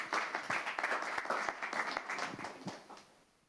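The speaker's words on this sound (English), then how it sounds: "and some applause." Applause for a speaker at a sustainability working group meetup: a modest crowd claps for a few seconds, steady at first and then thinning and fading out.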